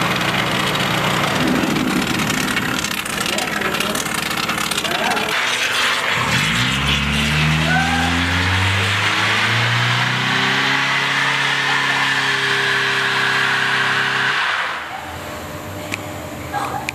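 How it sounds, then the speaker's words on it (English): Cars doing burnouts outside a shop: a steady loud engine roar, then a harsh revving surge with climbing, wavering pitch that holds for several seconds before cutting off, heard from indoors at moderate distance. "people are out there doing burnouts"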